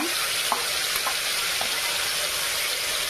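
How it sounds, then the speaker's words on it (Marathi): Onion gravy frying in oil in a kadai gives a steady, close, broadband sizzle that holds evenly throughout, with a few faint clinks over the hiss. "मस्तपैकी असा कांदा फ्राय होऊ द्यायचा।"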